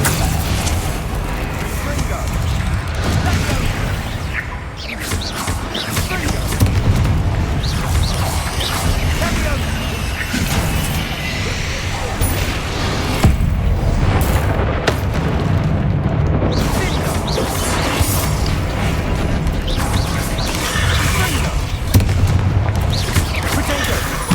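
Confringo spell explosions in Hogwarts Legacy: loud, dense booms and crashing blasts roll on almost without a break, with a voice talking over the battle.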